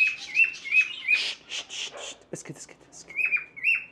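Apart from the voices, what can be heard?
birds squawking in a video game simulator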